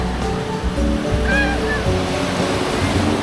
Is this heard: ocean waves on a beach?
yes